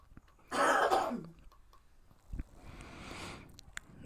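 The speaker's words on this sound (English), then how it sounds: "Don't mind that cough from the void." One person coughs once, harshly and close, and a rougher throat-clearing rasp follows after a short pause, both quiet and set against near silence.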